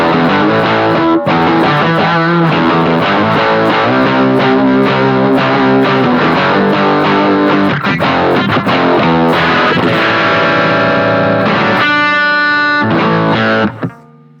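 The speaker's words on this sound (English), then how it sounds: "Fuzz on this one is awesome." Electric guitar played through a fuzz patch on a Boss GX-10 into Twin and JC120 amp models, thick distorted chords and sustained notes ringing loud and continuous before cutting off abruptly.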